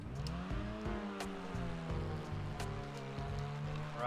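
The Grotti Turismo Omaggio supercar from GTA Online, fully upgraded, revs and accelerates with a loud, rising engine whine that climbs through gears in steady sweeps, with brief tire noise.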